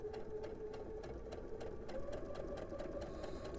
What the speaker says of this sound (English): now I'm going to stitch against the seam here.